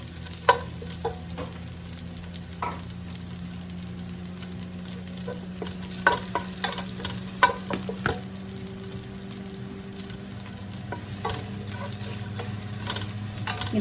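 Garlic frying in a pan, a continuous close sizzle with occasional stirring scrapes and clinks and a low steady hum underneath, with no talking.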